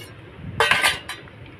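Eggs cracked against the rim of a bowl for a steamed egg fry, giving a sharp clink with a brief splatter, then a fainter second tap, close and alone without talk.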